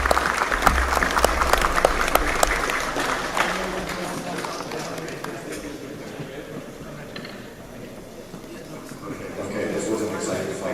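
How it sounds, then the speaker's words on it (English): Spectators at a sword and buckler fencing tournament final applaud a decisive win, a lively burst of clapping that thins and tapers off over several seconds while talk carries on underneath. "Bravo, applause."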